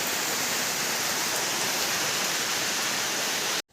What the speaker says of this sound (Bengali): এই সময় কেউ বৃষ্টি হয় দেখো বৃষ্টি হচ্ছে এই ফাল্গুন মাসে বৃষ্টি হচ্ছে